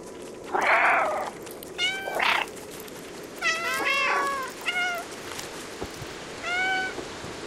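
A cat meows repeatedly in the video game Stray, several distinct, clear meows and short calls spaced over a few seconds, close and loud with no talking.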